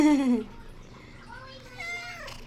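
A small kitten meows a few times, thin and rising, close by, with a soft voice talking in Filipino in between.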